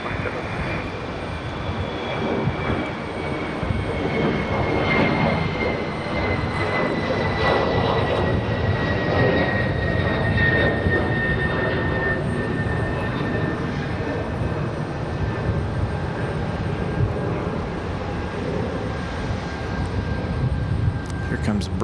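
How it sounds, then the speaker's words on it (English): An American Airlines A321 jet departs Raleigh-Durham with a loud, sustained rumbling roar and a slowly falling high whine as it climbs away. "We had that American A321. I believe that one is headed back to Charlotte, North Carolina."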